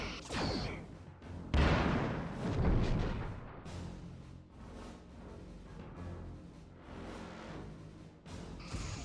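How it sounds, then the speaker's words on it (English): A starship in Star Trek Bridge Commander launching rear torpedoes, with loud booming whooshes and rumbling blasts in a few heavy surges over a low drone. "Lining up rear torpedo tubes"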